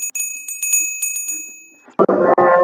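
A bright bell rings in a quick series of clear metallic strikes that fade out, followed by an abrupt burst of loud, rough noise.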